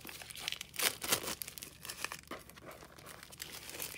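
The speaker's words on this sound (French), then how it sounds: "Puis là, on va ouvrir le paquet." Plastic wrapping on a felt craft kit box crinkles and tears as the package is opened, with a run of close, sharp rustling bursts that peak early and then continue more softly.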